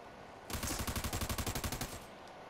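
Rapid, evenly spaced video game gunfire: a steady stream of about fifteen sharp shots over roughly a second and a half, fairly loud and alone, then stopping abruptly.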